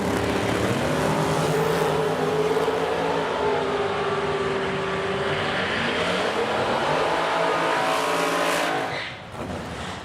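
Drag race cars launch from the starting line at a drag strip in Edmonton, Alberta, with a loud, rising engine roar and harmonic whine that sweeps upward, then drops away sharply near the end.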